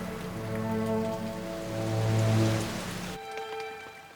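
Rain falls steadily beside a lake in Alaska, a soft close patter on the surface mixed with tonal hum that drops away near the end.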